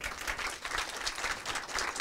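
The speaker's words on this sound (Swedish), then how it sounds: "En stor applåd." Audience applause at a Swedish talk on account provisioning with other clients, a steady, moderately quiet wash of many hands clapping that holds evenly across the short stretch, with no voices rising above it.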